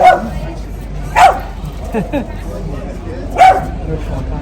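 A dog gives a few sharp barks, three louder bursts spaced across a few seconds, in an outdoor Bavarian-style village setting with people talking nearby throughout.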